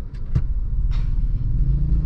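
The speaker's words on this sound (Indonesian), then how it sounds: "Nah ini mobil jalan ya." A Honda Mobilio with an injected engine creeps forward from a stop as the clutch is released slowly in first gear, a steady low engine rumble and road hum continuing close by with a couple of faint clicks early on.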